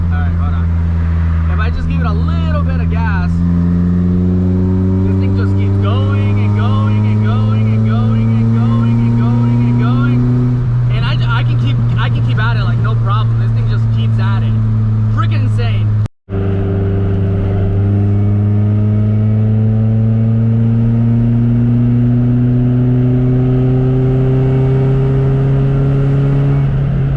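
K-swapped Honda Civic engine pulling steadily under light throttle while driving, a loud continuous drone whose pitch climbs smoothly through two long rising sweeps, a brief dropout between them, with a voice talking over it.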